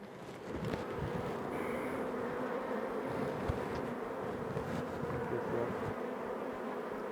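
Honeybees buzzing around an open hive frame, a soft, steady drone of many bees close by with light handling noises, fairly quiet and without speech.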